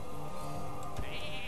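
A sheep bleats as a minion is polymorphed in Hearthstone, a short wavering cry over the game's background music, fairly close and clear.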